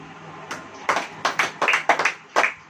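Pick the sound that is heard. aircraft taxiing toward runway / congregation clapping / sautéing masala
congregation clapping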